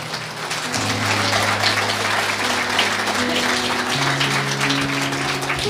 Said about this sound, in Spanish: Fuerte aplausos a Cristo Jesús